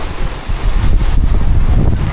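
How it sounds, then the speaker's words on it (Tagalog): Strong, steady wind roars and buffets the microphone during a rainy night at a lakeside campsite in Tanay, Rizal, beside an off-road vehicle with a rooftop tent. The gusts are loud and continuous and there is no talking. "sa lakas ng hangin at may kasama pang ulan"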